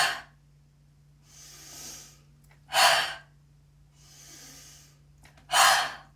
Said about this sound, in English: Deep breath in. Exhale.